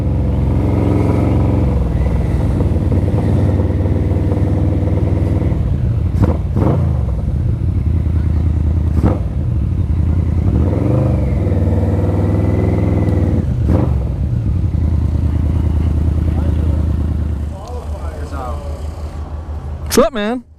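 A Yamaha V-Max motorcycle engine runs loud and steady at close range, with several rising rev swells as a worn, slipping clutch lets the revs climb, then drops lower near the end.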